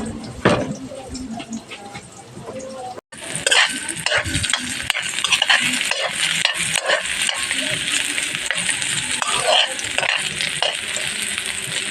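Onion, garlic and ginger sizzle and fry loudly in a pan for pork dinuguan, with steady crackling and stirring scrapes throughout after a brief quieter start.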